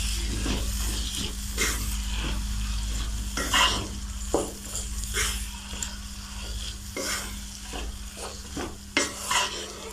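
Vegetables in a pan being stirred together with sauces and spices for vegetable fried rice, with repeated scraping stirs over a steady, close sizzle and occasional clinks of utensil against pan.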